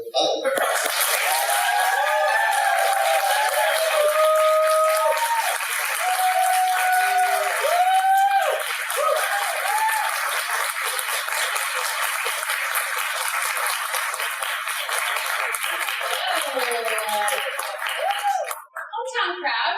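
Audience applause welcoming authors at a book event on abortion in post-Roe America, sustained clapping from a crowd under a voice, with whistles and cheers rising over it.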